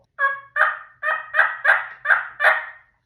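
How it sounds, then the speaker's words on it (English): Wild turkey calls up close, seven loud, evenly spaced raspy notes in a steady rhythm with no voices. "he gobbles."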